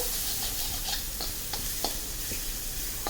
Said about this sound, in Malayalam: നമുക്ക് നന്നായിട്ടൊന്ന് മസാല അതിൽ ഉള്ളിയിലും തക്കാളിയിലും ചേർന്ന് വരെ ഒന്ന് ഇളക്കിയിട്ട്